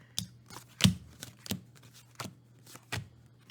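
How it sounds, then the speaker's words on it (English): Tarot cards shuffled by hand in a quiet room, giving a handful of crisp riffling snaps and soft slaps spaced irregularly over a few seconds, close and moderately quiet. "So I'll just shuffle a couple of times and then deal out to get the planets"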